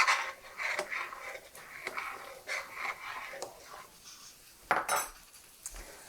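A spoon scrapes and clinks around a pot with uneven, rubbing strokes near the mic, ahead of a batch of bacon, with a sharper clatter toward the end and no talking.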